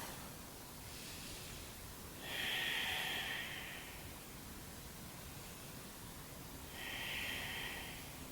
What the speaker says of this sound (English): We'll take 3 deep rounds of breath.